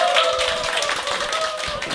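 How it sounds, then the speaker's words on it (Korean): Audience clapping in a lecture hall as a speaker is welcomed onstage at a small-business seminar, a steady dense patter of many hands sustained throughout at moderate loudness. "강사님 나오실 때 뜨거운 박수 부탁드립니다."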